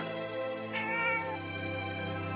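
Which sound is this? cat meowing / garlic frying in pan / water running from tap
cat meowing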